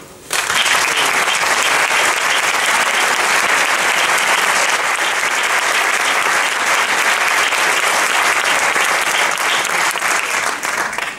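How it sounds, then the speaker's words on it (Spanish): A concert audience at an anniversary event for a music band bursts into sustained, loud, dense applause that holds steady for about ten seconds before tapering, with no voices over it. "Este aplauso es bien merecido."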